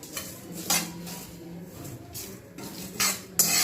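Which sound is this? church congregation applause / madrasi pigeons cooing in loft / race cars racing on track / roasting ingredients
roasting ingredients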